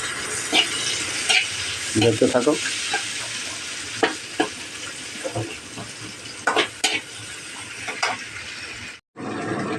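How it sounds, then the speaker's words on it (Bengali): Chopped green chillies and onions fry in a wok, sizzling steadily up close with repeated scraping stirs and spatula clatters against the metal. A brief spoken remark is heard, and the sound stops abruptly near the end. "তারপরে কাঁচা লঙ্কা কুচি আর পেঁয়াজ কুচি দিয়ে দিলাম কড়াইতে।"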